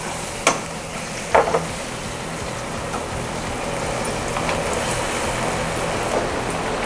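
Fish fries in a pan for a healthy Chinese-style meal, a steady broadband sizzle with a couple of sharp clacks early on as it is flipped, then a continuous frying hiss.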